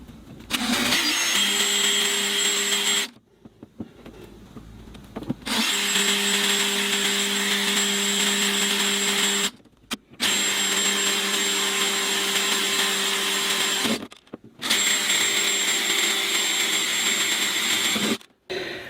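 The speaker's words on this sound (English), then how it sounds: "we're gonna drill with a 14mm drill" A power drill with a 14mm bit whirs loudly in long sustained runs while drilling holes to fit hard saddlebags on a Daelim Daystar 125 motorcycle, stopping briefly three times, with a steady high whine throughout.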